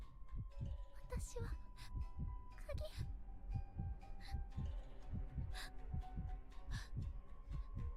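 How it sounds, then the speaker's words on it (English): Heartbeat effect from an episode of the Re:Zero anime, season 2 episode 19: steady, loud low thumps repeating through the whole stretch, with faint background music and scattered sounds layered above. "Is that her heartbeat?"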